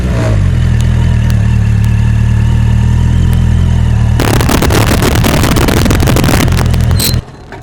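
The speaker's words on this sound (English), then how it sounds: "my air-cooled motorbike is starting to take a bit of strain" An air-cooled motorbike engine idles steadily and loudly up close during slow-speed parking practice, then becomes rougher and louder for a few seconds before cutting off abruptly.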